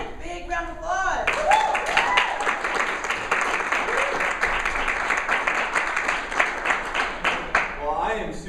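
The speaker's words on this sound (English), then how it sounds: "let's give Mike a big round of applause" Audience at a service-business talk applauding a guest speaker, a steady wash of many hands clapping for several seconds, with a voice heard at the start and end.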